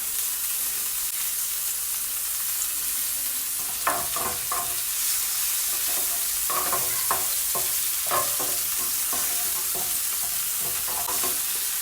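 Butter sizzles in a non-stick griddle pan before salmon steaks go in, a constant hiss with a run of scraping, swirling strokes in the middle, close by and without speech.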